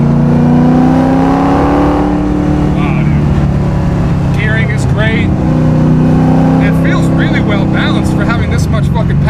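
A BMW E36 M3 fitted with a 7.1-litre LS2 V8 making 660 hp roars under hard acceleration, its loud, steady engine drone rising in pitch through the gears while people talk inside the cabin.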